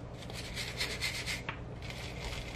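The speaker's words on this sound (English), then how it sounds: "I have just a little wire brush." A small wire brush scuffs the divots on a Yamaha boat gauge, making a faint, quick scratchy rubbing that repeats in short strokes up close.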